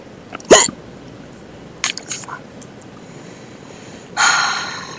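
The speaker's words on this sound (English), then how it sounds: "I get hiccups sometimes and they last for far, far too long." Several sharp hiccups, close and fairly loud, spaced irregularly over a quiet room background.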